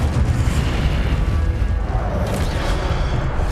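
The Incendio fire spell cast during combat in Hogwarts Legacy, a loud booming burst with a rumbling, crackling fiery tail amid ongoing battle noise.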